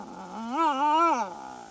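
Dingo howling, a single clear, mournful wail that rises, holds a wavering tone and then falls away, close and alone with no voices over it.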